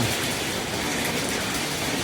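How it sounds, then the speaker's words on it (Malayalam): Dense, steady hiss of rain falling on a construction site after a concrete roof slab pour, loud and unbroken for a couple of seconds, with no voices. "ഇവിടെ മഴ."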